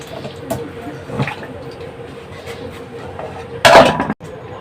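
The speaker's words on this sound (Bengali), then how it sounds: "আলুটাও কাটা হয়ে গেল। এইবার এটাকে ধুয়ে নিচ্ছি" Cut potatoes being washed in a pot in a home kitchen: water sloshes and splashes with light knocks against the pot, ending in a short, louder rush of water before it stops abruptly.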